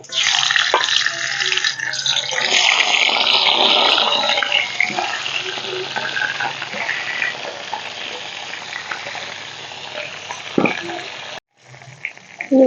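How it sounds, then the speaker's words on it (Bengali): Katla fish heads fry in hot mustard oil in a kadai, giving a loud, dense, continuous sizzle that gradually settles and briefly drops out near the end. "কড়াইতে দিয়ে দেবো সর্ষের তেল তেল দিয়ে মাছের মাথাগুলো ভেজে নেব"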